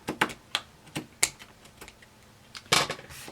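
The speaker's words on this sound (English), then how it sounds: "And then I'm going to cut my piece" Scissors snip through a piece of ribbon during a pin cushion sewing project, making several short crisp cuts in an irregular rhythm, close and fairly quiet, with no talking.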